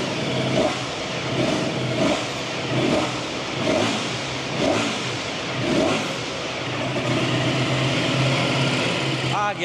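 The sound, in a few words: Ducati Panigale V4S 2025 motorcycle engine revving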